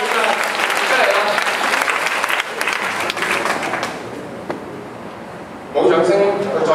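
An audience claps loudly at a school enrollment entertainment show, fading after a few seconds and then swelling again briefly near the end, with voices heard around the clapping.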